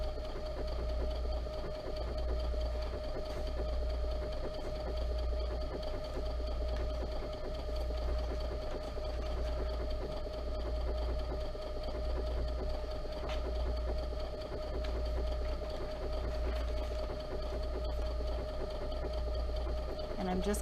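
Sewing machine triple stitching a zipper pouch, a continuous close mechanical whir with a regular pulsing rhythm as the needle runs forward and back, with someone talking over it.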